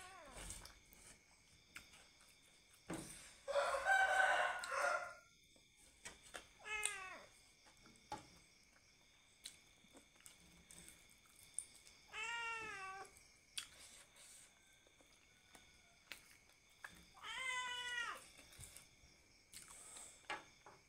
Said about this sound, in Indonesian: Maaf berisik, ada kucing teman-teman.